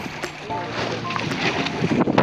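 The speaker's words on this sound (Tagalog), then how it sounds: "Lakas ang hangin." Strong sea wind buffets the microphone on a shore in Bato, Leyte, a steady rushing roar with gusting swells that rise louder toward the end; no speech over it.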